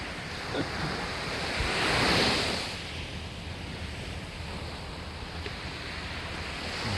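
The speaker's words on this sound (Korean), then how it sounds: "바닷가가 콩 울리는 건 처음 봅니다." Sea waves surge onto Hupo beach on Korea's east coast, a broad roaring wash of surf with a swell of booming rumble that rises and fades under steady wind noise, with no talking.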